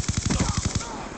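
Rapid automatic gunfire in Black Ops II, a steady burst of about ten evenly spaced shots over roughly a second, loud and close with a faint hint of voice beneath.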